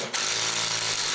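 A screw gun whirs steadily to bolt up a part in a garage, a continuous mid-to-high motor whine that cuts in abruptly and runs about a second with no voices.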